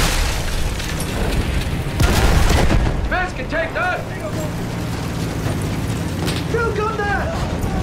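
A field gun fires in a Battlefield 1 battle, a heavy boom rolling through dense combat noise with distant explosions and chatter, while someone shouts over the din.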